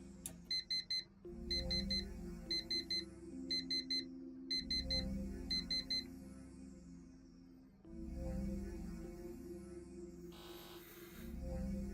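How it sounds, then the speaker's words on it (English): In the video game Actual Sunlight, an alarm clock rings with rapid repeated electronic beeps in short bursts over a low droning hum and muffled sounds, fairly quiet overall. "Why did you set your alarm clock for 5 a.m. every morning"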